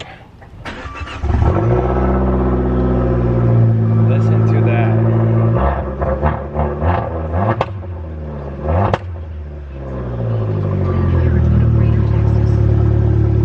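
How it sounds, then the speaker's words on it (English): A car engine cranks and catches, then settles into a steady, rumbling idle with a few revs, close by, while someone talks over it. "let's do a cold start"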